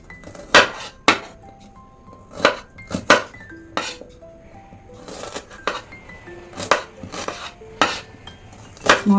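Sharp knife strikes on a board while ingredients such as onions and shallots are cut for a raw banana and coconut dish, with about a dozen irregular chopping taps and clinks ringing close and clear, no talking.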